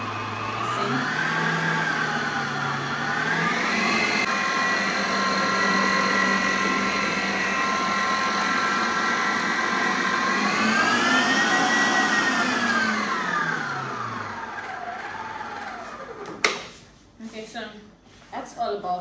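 Electric mixer whirring steadily through carrot cake batter at medium speed, loud and close, its pitch rising and falling as the speed shifts, before stopping with a few clanks.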